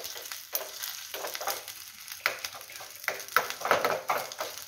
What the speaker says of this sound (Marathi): असं चांगलं रटरट रटरट शिजून घ्यायचं